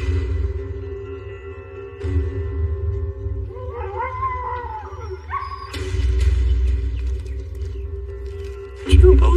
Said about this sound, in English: Along the Nenana River, Jesse Holmes lives a life dedicated to his sled dogs.